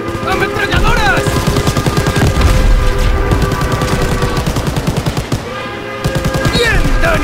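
Machine gun fire in the video game Call of Duty: World at War: loud, continuous rapid bursts of automatic gunfire with shouting voices mixed in throughout.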